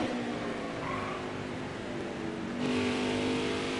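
A race car's engine roars past on the track at an Xfinity Series race at Richmond. The steady loud drone swells noticeably in the last second, with no talk.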